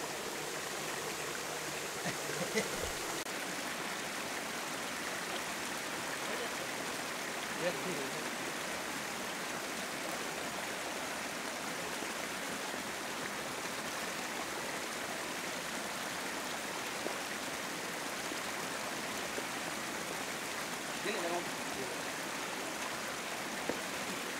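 A jungle waterfall or stream flowing in a steady, even rush of water that goes on without a break, with faint voices now and then under it.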